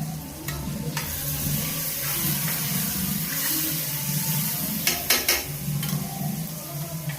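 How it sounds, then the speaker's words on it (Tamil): Vegetable kothu parota frying in a pan makes a constant close sizzle while it is stirred, with scraping and clinking of the utensil against the pan near the end. "இந்த மாதிரி கிண்டிக்கிட்டே இருங்க."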